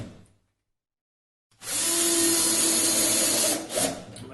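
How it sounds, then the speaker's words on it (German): A power driver runs screws through the back panel of a wooden snare cajon kit, a steady loud whirring grind after a short silence, easing briefly near the end. "schrauben das mit den beiliegenden Schrauben fest"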